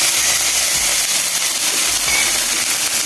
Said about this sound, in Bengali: কেটে রাখা রসুন ভেজে নিব।